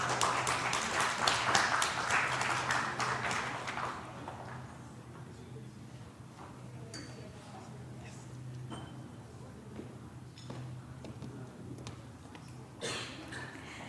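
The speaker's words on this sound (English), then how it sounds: "Please give a big round of applause." An audience at an Indonesia-Japan partnership conference applauds in a dense burst of clapping that fades after a few seconds, leaving scattered claps and quiet room noise.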